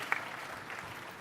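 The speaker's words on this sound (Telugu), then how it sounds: "చప్పట్లు కొట్టి అభినందించండి" An audience claps in a brief, soft burst of applause at a public gathering. A sharp clap stands out at the start before a fainter, even patter.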